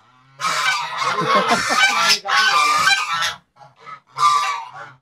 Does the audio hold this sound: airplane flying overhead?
no